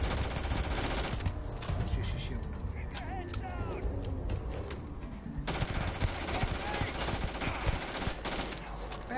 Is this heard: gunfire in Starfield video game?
yes